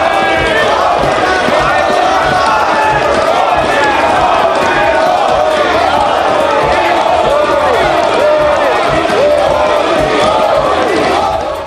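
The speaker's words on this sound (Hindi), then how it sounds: "मोदी मोदी के नारे लगते रहे।" A packed parliament chamber erupting in loud, sustained applause and rhythmic chanting of a leader's name, a dense crowd roar that holds steady throughout without a break.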